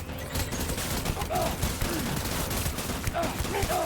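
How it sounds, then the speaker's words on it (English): Dense, continuous gunfire from a firefight in Death Stranding Director's Cut, a steady rattle of shots filling the whole stretch at moderate loudness, with faint voices underneath. "Open fire."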